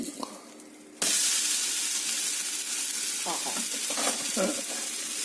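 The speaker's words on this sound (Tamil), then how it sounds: "ஒரு பக்கம் கிறிஸ்பியான பிறகு பட்டை பக்கம் திருப்பி விட்டுரும்." A dosa fries crisp on a hot griddle: after a quiet second a loud sizzle bursts in and holds steady, with a few scraping stirs near the end and no talk.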